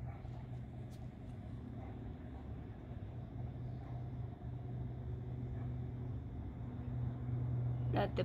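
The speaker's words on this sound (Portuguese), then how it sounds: "Ali é um avião, ó." A steady low rumble of an aircraft droning overhead in São Paulo, distant and continuous, with faint background noise throughout.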